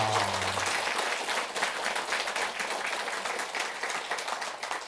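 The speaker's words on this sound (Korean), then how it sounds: "마지막으로 박수 한번 칠까요?" Listeners at a Buddhist monk's talk break into a round of applause, a dense wash of clapping that stays steady for several seconds before thinning slightly, after a brief low vocal sound at the start.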